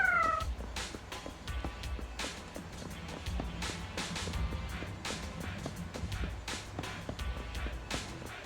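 Officer Meow Meow, a cat character in the video game Zenless Zone Zero, gives a short meow at the start, followed by rhythmic ticking and clicking game sounds over a low rumble.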